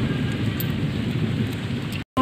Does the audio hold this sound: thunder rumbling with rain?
yes